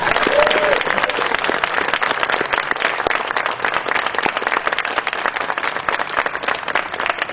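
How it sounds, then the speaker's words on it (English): Audience applause for Bob Sage at a community gathering, a dense, steady wash of clapping from many hands that holds loud and even throughout, with no talk over it. "let's do another round of applause for Bob Sage"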